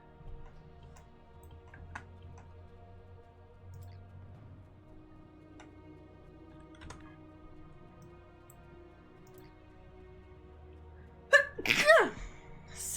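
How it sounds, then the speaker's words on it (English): A single sharp sneeze erupts near the end of a quiet stretch during a Star Trek Online game stream, short and close, after several seconds of low background hum with faint ticks. "Sneezing."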